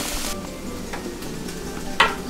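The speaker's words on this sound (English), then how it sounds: "So now I add the green pepper. It's frying here." Soft, steady sizzling of green pepper frying in a pan for Cuban picadillo, with a brief clatter near the end and no voices.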